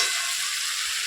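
Spices frying in a pan with meat and ridge gourd after ginger, garlic, chilli powder, turmeric, salt and coriander-cumin powder are added: a steady, close hiss of sizzling with no voices.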